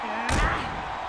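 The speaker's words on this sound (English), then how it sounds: "And a stomp to the gut" A single heavy stomp-to-the-gut impact from a wrestling video game tag-team match lands as one loud, punchy thud shortly after the start, then the game's background din carries on.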